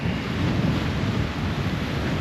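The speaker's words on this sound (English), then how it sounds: "This, as you can see, is the ocean" Ocean waves wash along the Welsh coast near Prestatyn around high tide, a steady broad roar of surf mixed with gusting wind buffeting the microphone, continuous and close.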